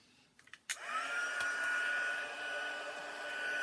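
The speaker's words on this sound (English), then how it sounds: "heat tool. I always like to go from the underside first, just to warm up my paper." An embossing heat tool switches on with a click and blows a loud, steady whirring stream of hot air close by while warming paper for embossing powder, holding at an even pitch with no talk.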